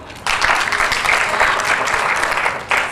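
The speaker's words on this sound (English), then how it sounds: "Let's clap for him." Audience applause from a group, a burst of clapping that starts abruptly, holds steady for a couple of seconds, then briefly swells again.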